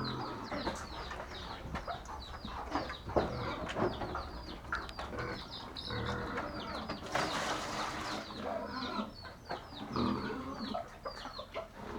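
A mother hen clucking and chirping over a busy farmyard background, with repeated short calls, a louder squawk midway, and other birds nearby.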